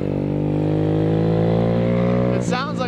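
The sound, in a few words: scooter revving with loud baffle-less exhaust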